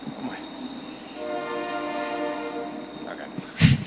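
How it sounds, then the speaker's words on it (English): A passing train sounds a sustained, harmonically rich horn blast at a moderate distance for several seconds, heard indoors during a city council meeting in Mount Shasta, ending with a brief close thump. "Yeah, wait for the train."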